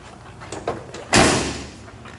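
A door on a 1969 Plymouth Road Runner shuts with a single solid thud, preceded by a couple of faint clicks from the latch.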